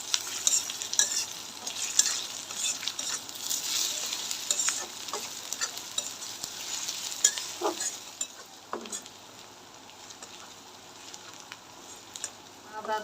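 Chopped ginger, garlic and onion fry in oil in a wok for a banana-flower cutlet filling: a steady bright sizzle with repeated spatula stirring and scraping, easing off later.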